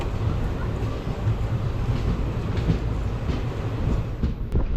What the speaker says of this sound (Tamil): நாமக்கல் ரயில்வே ஸ்டேஷன்லேருந்தும் ட்ரெயின் ஸ்டார்ட் ஆகிடுச்சு